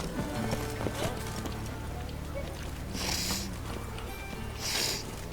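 Horse hooves clip-clop at a steady pace in the video game The Witcher, a continuous rhythmic trot under game ambience with a couple of brief swishing bursts, no talk.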